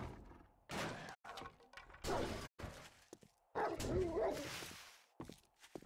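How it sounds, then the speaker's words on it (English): A dog in the survival video game 7 Days to Die barks in several rough, muffled bursts, with thumps and clatter from game action around it. "And that sounded like a dang dog."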